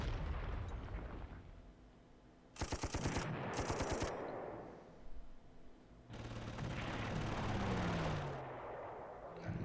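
Ship artillery fire pounds away in the Panzer Corps video game: sharp bursts of rapid, crackling shots arrive in two loud clusters, followed by a long rolling explosion that fades slowly, with no talking.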